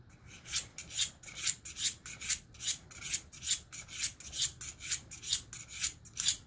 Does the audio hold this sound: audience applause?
no